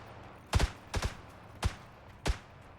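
Gunshots in a battle royale video game: four loud, sharp shots, the first two doubled, spaced irregularly over about two seconds with no talk.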